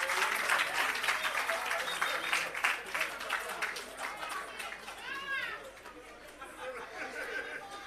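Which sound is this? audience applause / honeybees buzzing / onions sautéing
audience applause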